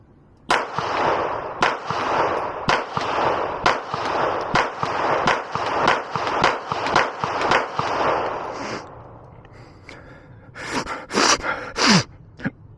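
Shots from a Taran Tactical JW4 Pit Viper pistol ring out close and loud in a steady string of about a dozen evenly spaced reports, then a few more scattered, sharper cracks follow.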